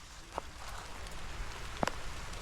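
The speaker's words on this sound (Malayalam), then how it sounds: "മഴ പെയ്ച്ചു" Rain on a hill at an ecotourism spot, a steady soft patter of drops falling on surfaces, with a couple of sharper single drop hits standing out over the continuous wash.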